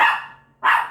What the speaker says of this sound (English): It's a dash hound barking near my door.